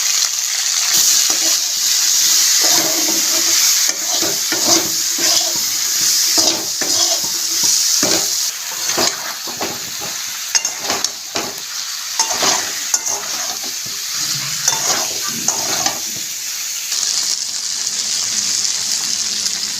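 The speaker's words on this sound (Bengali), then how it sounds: "গোটা লঙ্কা একটা ছিঁড়ে দিলাম, দেবো একটা তেজপাতা দিয়ে দেবো ভেন্ডি, দেবো পরিমাণ মতো লবণ, দেবো হলুদ" Okra frying in a pan with whole chili, bay leaf, salt and turmeric, a loud continuous sizzle broken by repeated stirring scrapes throughout.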